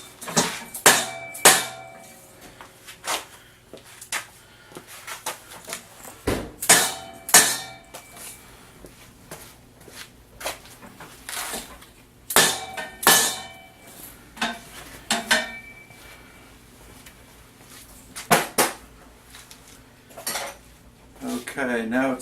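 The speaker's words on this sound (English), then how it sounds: "Now I take and drive them down to make sure they're bottom." Metal tabs hammered down into the slots of a steel tab-and-slot welding table, a series of sharp ringing strikes in irregular bursts, close and loud, with clanking pauses between.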